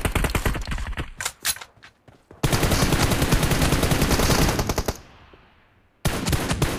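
Loud automatic gunfire in PUBG Mobile, starting with rapid bursts and scattered single shots, then a dense continuous roar of firing that fades out before another burst kicks in, close and without talk.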